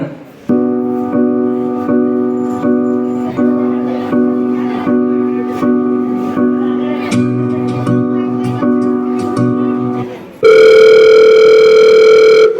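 A telephone plays a tonal ringtone in a Sunday school skit, the melodic pattern repeating loudly and steadily for about ten seconds before switching to a sustained, brighter tone.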